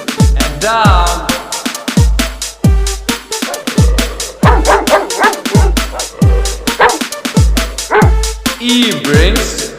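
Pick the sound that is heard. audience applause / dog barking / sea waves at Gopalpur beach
dog barking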